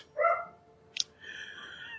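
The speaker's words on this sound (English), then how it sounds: "Damn dog." A dog gives a short bark, then a sharp yip and a whining, drawn-out whimper, fairly close and clear against a quiet background.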